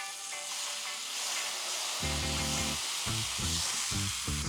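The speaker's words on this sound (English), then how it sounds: "And let's get the steak down." Beef chuck steak sizzles steadily on a hot griddle, a constant loud frying hiss throughout, with a few low scraping or thudding sounds from handling in the second half.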